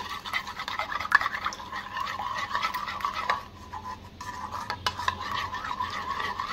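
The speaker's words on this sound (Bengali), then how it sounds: "এবার খুব ভালোভাবে মিক্স করে নিচ্ছি" Egg is stirred in a bowl with salt and ground pepper, giving irregular clinks and scrapes of a utensil against the dish, with a rhythmic whisking texture and brief pauses; no voices.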